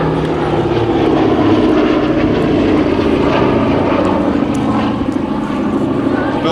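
A Boeing B-17 Flying Fortress, the Sally B, flies overhead at an air show, its multiple radial propeller engines producing a loud, steady, broadband drone that holds for the whole stretch.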